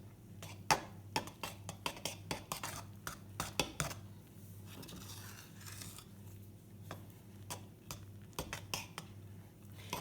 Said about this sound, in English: now I'm going to use the butter knife to stir it all in together